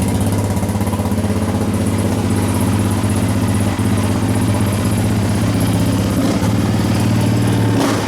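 A cold Yamaha Raptor 700R ATV engine with an FCI intake and MSD fuel controller idles steadily, loud and close, with a constant low throb and a rough, clattery edge throughout.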